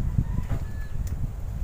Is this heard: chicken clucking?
yes